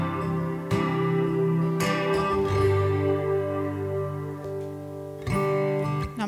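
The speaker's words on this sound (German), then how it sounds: "Der Chorus macht auch mal nochmal ähnliches wie ein Delay." Acoustic guitar run through a Fishman chorus pedal, strummed chords ringing with a doubled, shimmering tone; several fresh strums near the start, around two seconds and again past five seconds, played alone and close.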